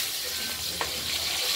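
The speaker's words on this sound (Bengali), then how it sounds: "এবার আলু পটলগুলোকে আগে আমরা ভেজে নেব লাল করে।" Potatoes and pointed gourd fry in hot oil in a wok, giving a steady, dense sizzle with a brief stir or scrape midway, close and alone.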